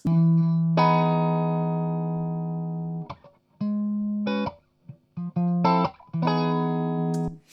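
Dry electric guitar through an amp picked up by microphones without EQ or processing: a long sustained chord followed by short clipped notes and stabs with gaps between, close and clean.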